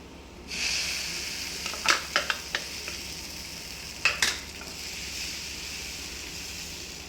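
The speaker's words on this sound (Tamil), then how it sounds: "தோசை மாவு ஊற்றிடுவோம்." Dosa batter poured onto a hot pan for kari dosa sets off a sudden hissing sizzle that holds steady, with several sharp scraping ticks of a ladle spreading it, heard close and without talk.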